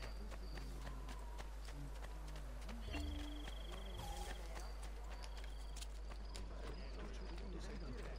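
Horse hooves clip-clopping at a run in the Assassin's Creed 2 video game, steady rhythmic beats over continuous game ambience and music with a brief chime partway through.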